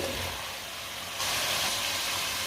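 Finely chopped turnips, about a kilo, go into a hot cooking pot for an aloo shalgam dish, and a steady steamy hiss swells up loudly about halfway through, close and without talk.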